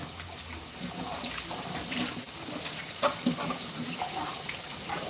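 Tilapia frying in oil in a pot, a steady broad sizzle and hiss with occasional sharper pops, fairly close and continuous throughout.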